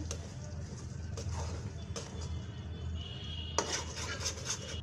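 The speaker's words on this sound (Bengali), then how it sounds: "এভাবে কিন্তু নাড়াচাড়া করতে হবে, না হলে লেগে যাবে" Amla and shikakai hair oil being stirred in a pan, with soft scraping and clinking of a spoon against metal recurring over a steady low cooking hum.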